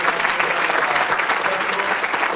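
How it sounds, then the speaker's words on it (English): Audience applause at a theatre event, a steady dense roar of many hands clapping throughout, loud and sustained with no pauses. "Keep clapping for me"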